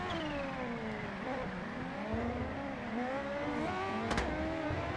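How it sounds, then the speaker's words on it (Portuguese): A rising and falling high-pitched supercharger whine over the engine of a Kawasaki H2R motorcycle, sweeping up and down with revs, moderately loud and close, with a brief sharp burst near the end. "o barulho da turbina, hein, galera?"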